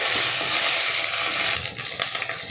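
Ginger garlic paste frying with onions in a pan for a mushroom curry, a close, continuous crackling sizzle broken by brief stirring scrapes near the end.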